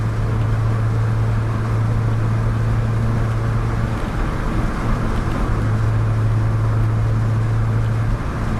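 A Holden Torana 1300 engine drones steadily from inside the cabin while accelerating in fourth gear, a constant low hum with road noise and no talking.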